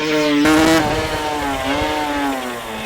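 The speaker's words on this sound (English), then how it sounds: "you can feel the sheer aggression from the throttle." The 1989 Pepsi Suzuki RGV500 two-stroke 500cc Grand Prix race bike screams with a loud, close, sustained high-pitched engine note, blipping up sharply near the start and then holding and wavering at high revs with no talking.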